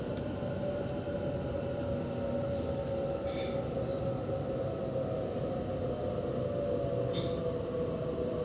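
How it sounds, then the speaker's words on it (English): Steady rumble of a Sydney T3 Bankstown Line commuter train rolling into Campsie station, with a sustained hum and two brief high squeals from the wheels. "Train on approach to Campsie station."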